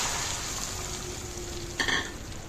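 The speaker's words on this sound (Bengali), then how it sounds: "সর্ষে অল্প অল্প ফুটছে" Mustard seeds and dried red chilli tempering in hot oil, a soft even sizzle with a brief louder crackle of popping seeds near the end, faint and close.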